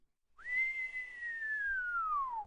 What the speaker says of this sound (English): The general whistled.